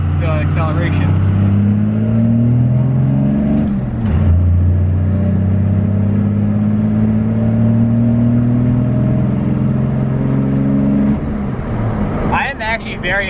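A diesel 2nd gen pickup truck fitted with a new Edge Comp tuner accelerates hard on a test drive, its engine droning loudly and rising through gears with a shift midway, steady and close throughout.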